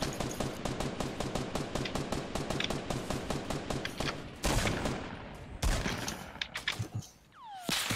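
Rapid automatic gunfire in a Fortnite Battle Royale firefight: a long steady burst of sharp close shots, followed by a few louder heavier blasts and scattered single shots toward the end.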